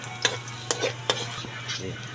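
Garlic and then onion sautéing in a pan, a quiet sizzle with several sharp utensil scrapes and taps against the pan at irregular intervals, close by with no talking.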